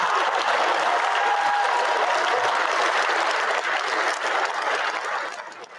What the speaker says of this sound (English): A big round of applause for the Timu version of me